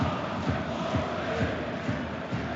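A Rangers football crowd in a stadium during a Europa League match against Genk makes a steady, distant roar of cheering and chanting, with rhythmic pulses, and no talk over it.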